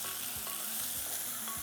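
Tomato masala sizzling in a hot pan while a spoon stirs it, a constant bright fry with soft rhythmic scraping strokes, close and without talk.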